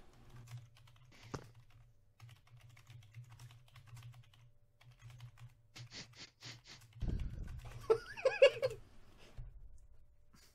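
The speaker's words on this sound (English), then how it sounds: "Mephistopheles is typing." Fingers tap a computer keyboard in soft, quiet bursts of clicks with short gaps, followed near the end by a few other brief, louder sounds.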